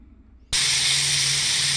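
A pressure cooker cooking mutton curry releases steam, a sudden loud, close hiss that bursts in after a short quiet moment and holds steady with a faint low hum beneath it.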